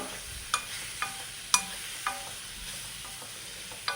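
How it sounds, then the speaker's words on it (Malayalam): Ripe mango curd curry stirred in a pan, with a few distinct spoon clacks against the pan spaced about half a second apart over a faint background hiss, quiet and close with no talking. "അപ്പോൾ ഇതെല്ലാം ഒന്ന് നന്നായി ഒന്ന് മിക്സ് ചെയ്തെടുക്കാം"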